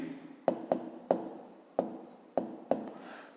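Pen strokes scratch across paper while a fifth-grade math exercise is written out by hand, six sharp taps and scrapes at uneven intervals, close and clear against a quiet room.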